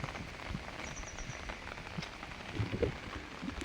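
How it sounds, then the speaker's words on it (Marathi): Soft, steady rain patters on a surface, fairly quiet and continuous, with a few dull knocks and taps toward the end. "पाऊस पण भरपूर आहे"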